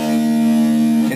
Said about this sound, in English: You make that power chord. It sounds like this.